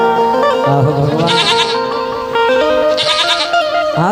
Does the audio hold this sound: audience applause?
no